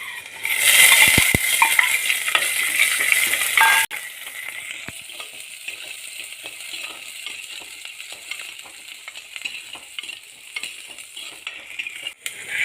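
Chopped shallots hit hot oil in a pan for a Kerala-style coconut avoli fish curry, sizzling loudly and steadily for about four seconds, then settling into a softer continuous frying crackle with occasional stirring clinks.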